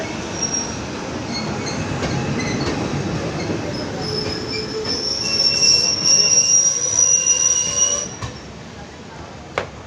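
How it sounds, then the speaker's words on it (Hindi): A double-decker train at Baroda (Vadodara) railway station, its wheels squealing loudly and steadily on the rails for about eight seconds before the screech cuts off, with station noise around it. "बड़ौदा स्टेशन पे हम आ चुके हैं और हमें सामने खड़ी है डबल डेकर।"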